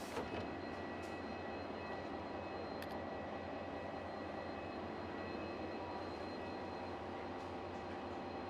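Te Huia passenger train approaching out of Frankton Station, a steady broad low rumble with continuous engine drone and faint high whine, sustained without talk.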